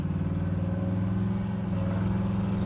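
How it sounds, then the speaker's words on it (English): A 1967 Chevrolet Impala with a big-block engine idles, its exhaust giving a deep, steady rumble with an even low throb, close and unbroken throughout. "Listen to that exhaust."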